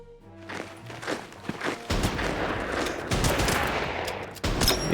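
Units trade fire in the WWII strategy game Order of Battle, with a dense burst of gunfire and rattling shots swelling into a continuous crackling barrage after a low rumble, moderately loud and without talk.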